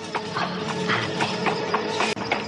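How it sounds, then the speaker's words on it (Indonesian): Hooves of a horse-drawn carriage clip-clop in a quick, steady gallop rhythm, fairly loud and close, with no voices over them. "Dengar, lari kereta kuda itu sudah semakin dekat."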